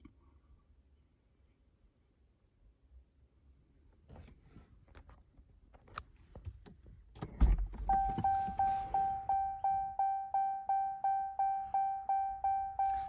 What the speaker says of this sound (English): Right now I can hear the brakes being retracted.